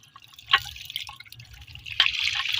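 Water from a government deep tube well in a village paddy field comes out in bursts and splashes, a nearby wet gush rising and swelling toward the end, with no talking.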